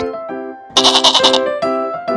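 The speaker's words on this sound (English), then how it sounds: "goat" A goat bleats loudly and close, a wavering nasal cry with a sharper middle burst and a short second call after it, alone without talk.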